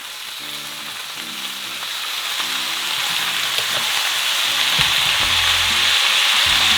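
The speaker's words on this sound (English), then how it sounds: "Can you hear it sizzle?" Steady, bright sizzling of cabbage frying in a hot oiled pan, growing slightly louder over time, with faint clinking and low background sounds.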